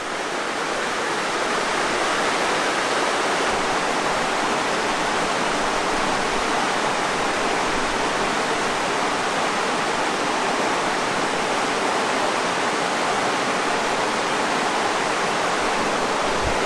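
A river rushes steadily past tall bluffs in a Missouri spring valley, a dense, even roar of moving water that holds constant and close throughout with no voices.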